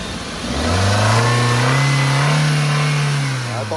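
A Chevrolet Spark's engine revs up from idle to a sustained higher pitch, holds there, then drops slightly, heard loud and close with no speech.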